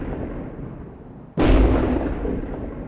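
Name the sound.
artillery fire from a self-propelled gun in a tank video game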